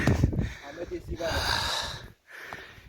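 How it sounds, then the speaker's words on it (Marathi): A man breathes hard and heavily after climbing steep ladder-like steps on a temple pilgrimage trek, with loud, close gasping and wheezing breaths and snorts broken by a short pause. "दम लागला बेकार."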